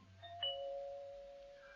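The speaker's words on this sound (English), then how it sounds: "A few moments later, John Steed, who was upstairs, heard the front doorbell ring." A front doorbell used as a sound effect in a radio drama rings once with a quiet, clear chime that holds a sustained tone and fades out slowly.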